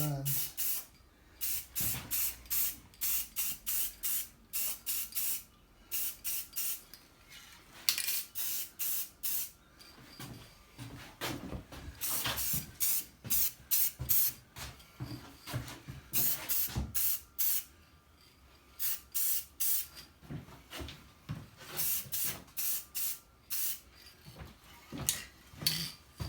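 Bursts of aerosol spray paint coat a Revell Peterbilt semi truck model kit, a steady rhythm of hissing sprays lasting a second or two each with short pauses, close and fairly loud, continuing for well over twenty seconds.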